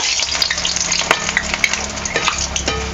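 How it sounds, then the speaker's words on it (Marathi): Kombdi vade dough frying in hot oil, a loud, close, continuous sizzle with bubbling crackle and a few sharp spatters, no voices. "तेलामध्ये सोडते चांगलंसं असं आपल्याला तळून घ्यायचं"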